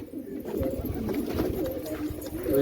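A pigeon lands on a plate at a rooftop pigeon house, with steady cooing close by and low background noise throughout.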